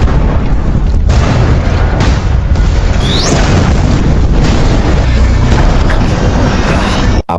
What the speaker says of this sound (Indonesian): tangki yang berisi bahan kimia satu persatu meledak